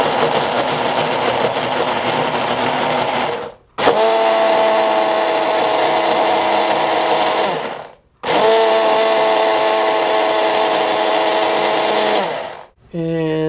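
A food processor whirs loudly and steadily as it mixes waffle batter with egg and baking soda, running in three long bursts with brief pauses between them.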